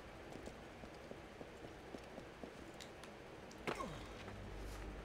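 Horse hooves clip-clopping in Assassin's Creed Origins, a quiet, regular trot of soft hoof clops, followed by a sharper whooshing hit and a low rumble.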